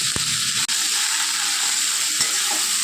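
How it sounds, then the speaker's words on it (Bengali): Ground turmeric, cumin and Kashmiri chili powder are stirred into hot oil in a pan, making a continuous loud sizzle with a few sharp knocks of the spoon. "দেখুন মামনি গুঁড়ো মশলাগুলো দিয়ে এবার হালকা করে তেলের মধ্যে নেড়ে নিচ্ছে।"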